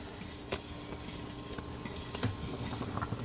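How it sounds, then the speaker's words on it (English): A pot bubbling vigorously on a stove, a steady rolling boil with crackling and faint clinks of cookware. "Whoa! That's really boiling."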